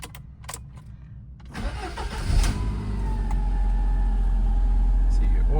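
A 1995 Lancia Delta Integrale Evoluzione II, push-button start, cranks briefly after a few clicks, then its engine catches with a burst and settles into a loud, steady idle, close up.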